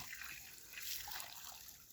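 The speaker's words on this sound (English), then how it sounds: "we soak the ground, the concrete, with a lot of water as you see." Water poured and sprayed over a freshly cast concrete foundation blinding, a steady close hiss and trickle that runs unbroken, with no talking.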